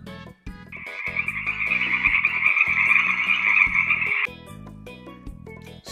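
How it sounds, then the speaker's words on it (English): A frog croaks in a long, bright, continuous trill lasting several seconds, sitting clearly above a steady backing music track that continues after the call stops. "Frog."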